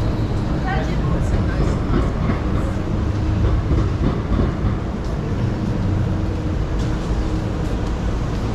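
A Melbourne C-class tram, number 3023, rolls through the city with a steady, loud rumble and faint clickety-clack of wheels on rail, sustained throughout with faint background voices.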